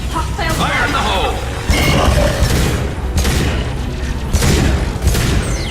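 A grenade detonates amid sustained gunfire during a firefight in the shooter Mass Effect 2, a loud continuous din of booming blasts and rumbling shots, with speech mixed in.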